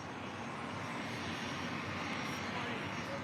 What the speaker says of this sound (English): Japan Airlines Flight 61 heading to Tokyo Narita. It's a 787-9 Dreamliner.